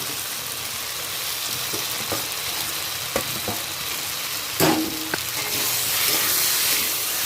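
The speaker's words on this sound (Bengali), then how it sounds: "নেড়ে চেড়ে ভালো করে কষিয়ে নেব" Fried pointed gourd and potatoes are stirred in a spice mixture in a pan, a loud, steady sizzle broken by several clanks and scrapes of a spatula against the pan.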